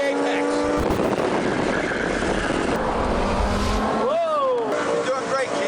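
A car driven hard around a coned track, its engine roaring and building under loud, excited coaching voices, with a brief tire squeal toward the end.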